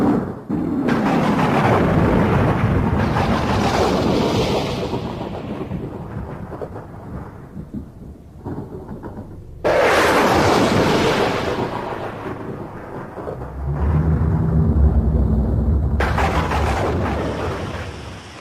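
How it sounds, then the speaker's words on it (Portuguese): Heavy thunderclaps boom and roll during a rainstorm with lightning, two loud cracks each decaying into long rumbles, over a steady hiss of rain, with a low thudding burst near the end. "muito relâmpago, trovões, né?"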